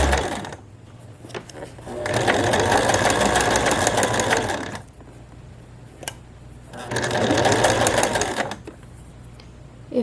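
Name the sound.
sewing machine stitching a shirt seam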